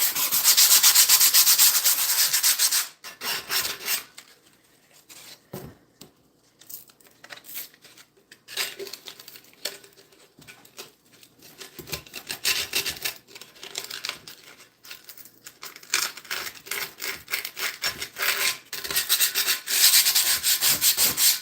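Sandpaper scraping rust off cast iron cookware, a loud, gritty rasping in uneven back-and-forth strokes with short pauses, close and alone with no talk.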